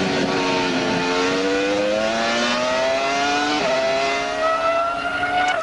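A Formula One race car driven by Jeff Gordon screams past at high revs, its engine note climbing and shifting through gears in a loud, continuous wail, with no talk.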